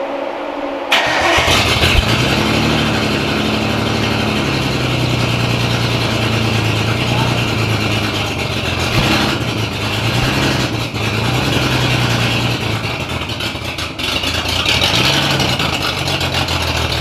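A Nissan Skyline R32 with a new exhaust cranks and fires after a second of quiet, then settles into a steady, loud, close idle that continues uninterrupted with no voices.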